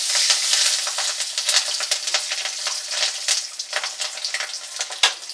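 Bay leaf, cumin seeds and green chilli crackle and sizzle in hot oil for a Bengali prawn and taro-leaf dish, a steady close spit with sharp pops scattered throughout and no voices.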